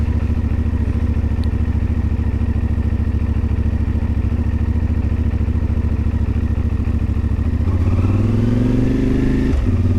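A CFMoto Ibex 450 motorcycle engine idles at low throttle with a loud, steady, close-up thrum, then rises slightly in pitch near the end as a little throttle is added.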